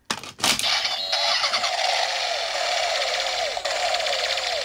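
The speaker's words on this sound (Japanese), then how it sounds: "アクセルからは常にアイドリングの待機音鳴っちゃうんですよね" A DX Accel Driver toy transformation belt from Kamen Rider gives off a steady electronic engine idle: a continuous buzzing rumble with a short startup burst at the beginning, loud and close, no talking.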